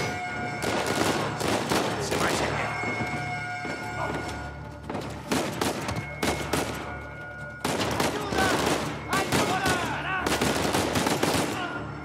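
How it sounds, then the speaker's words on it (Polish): Rapid bursts of automatic gunfire and single shots from the video game Uncharted 4 crackle in repeated volleys with brief pauses, loud and dense, with game voices in between. "Spoko się strzela."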